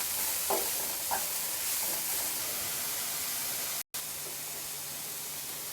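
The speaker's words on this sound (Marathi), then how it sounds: "पालक आणि शेपू छान परतवून घ्यायचं हे सर्व असं एकजीव करून घ्यायचं" Spinach and dill sautéing together in a pan give a steady, close frying sizzle, with a few soft stirring scrapes early on and a brief dropout near the end.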